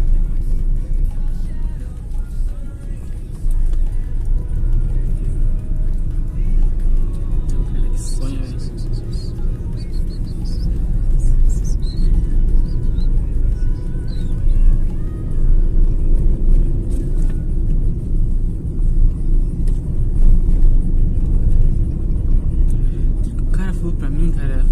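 A car engine rumbles steadily and accelerates in third gear during a driving lesson, its low drone continuing beneath almost constant talking from the people inside.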